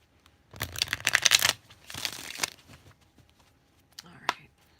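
A deck of oracle cards is shuffled in two quick riffling bursts up close, followed by a few soft card taps, with a voice speaking around them.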